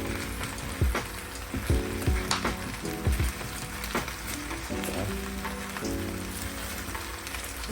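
Frozen humba pork braises in oily liquid in a Saladmaster skillet, giving a steady sizzle and bubbling with scattered clinks and stirring sounds, all close up.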